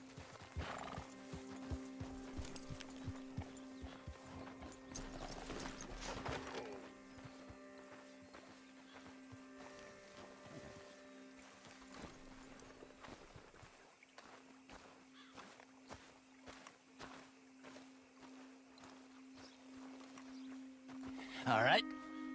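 Horse hooves clip-clopping in the video game Red Dead Redemption 2, a series of soft, regular thuds under a steady low hum, with a louder burst of movement near the end and voices talking at times.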